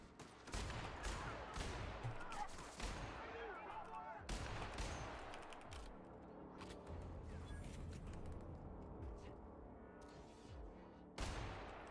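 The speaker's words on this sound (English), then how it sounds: "The hell is shooting at me?" Dense, rapid gunfire in The Outer Worlds, bursts of automatic shots crackling continuously across the whole stretch, loud and close, with brief swells and a fresh burst near the end.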